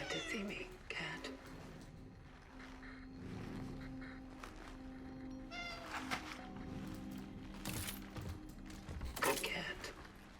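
A cat meows repeatedly in the survival horror game Cronos: The New Dawn, several plaintive meows and a drawn-out caterwaul rising over quiet background sounds, with someone talking in between.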